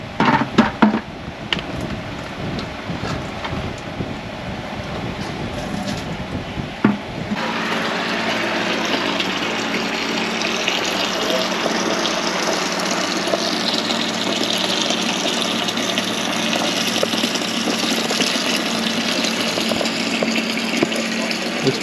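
Fuel running steadily out of an old, rusty vehicle's gas tank, a continuous close liquid rush after some early clattering and handling noises, with no talk.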